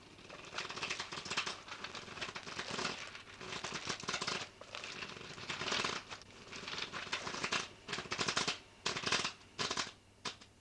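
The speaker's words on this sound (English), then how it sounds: "I'll shuffle." A deck of playing cards is shuffled in a quiet room, with repeated riffling bursts of crisp flapping that grow into distinct rapid riffles near the end.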